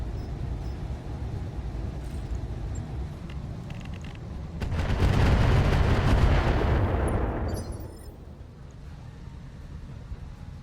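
Incendiary weapons firing in the Roguetech mech combat game, a loud rushing burst of launches swelling for about three seconds and fading out over a low steady background rumble.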